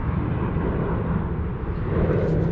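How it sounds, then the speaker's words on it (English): A fixed-wing airplane flies near an airport in southwest Florida, a loud, broad, continuous engine roar that holds steady throughout, with no speech. "Check out the airplane."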